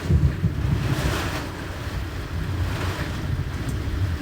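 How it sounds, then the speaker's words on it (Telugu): Strong wind from a rainstorm in Autonagar, Kakinada, roars and buffets steadily across the microphone, a continuous rushing noise with no voices; rain is not distinctly audible. "వర్షం గాలి వాన చూడండి"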